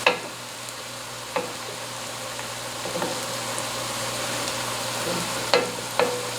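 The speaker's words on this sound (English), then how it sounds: "It doesn't take long for the onions to cook." Onions frying in a pot for a Cajun jambalaya, a steady close sizzle with a few sharp stir clinks and scrapes against the pan.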